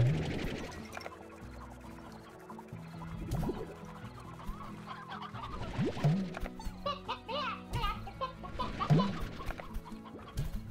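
Chickens clucking in the video game Slime Rancher, repeated short clucks and squawks scattered over game music and effects, fairly close and moderately loud.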